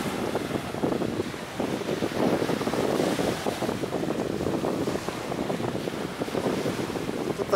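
Beach waves and steady wind at Adam's Bridge in Mannar, Sri Lanka, with a continuous wash of surf and wind buffeting the microphone throughout.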